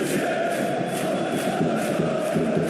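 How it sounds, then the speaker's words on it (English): Stadium crowd in PES 2021 at a Champions League match between Fenerbahce and Lyon, a steady roaring wash of cheering and chanting that holds at an even level throughout, with no distinct voices standing out. "The crowd are calling for this to be put to bed"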